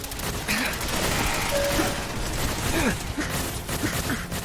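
A turret bot fires rapid bursts in the Fallout 4 video game, loud sustained gunfire mixed with mechanical clanks and creaks during an intense combat fight.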